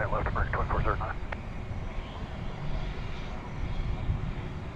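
An American Airlines jet takes off at DFW Airport, its engine roar a steady broadband rumble throughout, while a voice speaks briefly near the start.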